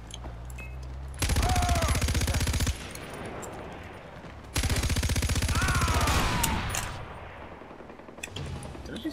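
Rapid gunfire from Far Cry 4, loud and close, in two sustained bursts of fast repeated shots with a short quieter gap between them and fading reverberant tails after each burst, no speech.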